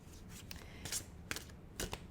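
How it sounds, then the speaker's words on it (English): A deck of cards shuffled close up indoors, heard as several short, quiet riffling bursts spaced apart, with no talk over them. "That card, before I even started to shuffle it, it really jumped out"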